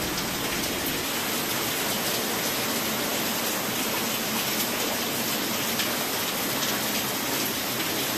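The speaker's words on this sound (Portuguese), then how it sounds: "Muita chuva mesmo." Heavy rain pours down steadily in the early morning during a storm, a dense continuous hiss that stays loud and unbroken throughout with no voices.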